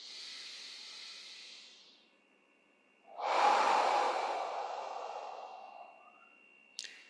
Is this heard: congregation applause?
no